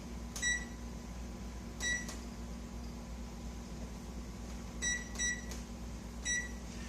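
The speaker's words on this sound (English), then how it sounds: "So let's add 2 minutes to the timer." A kitchen timer gives short, clear electronic beeps, single and paired, spaced apart over a steady low hum of appliances, with no talking.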